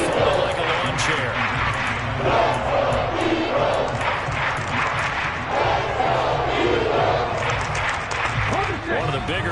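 A stadium crowd at an American football game, Washington versus Philadelphia, roars and cheers ahead of a big third down, a dense sustained wall of voices with a commentator talking over it.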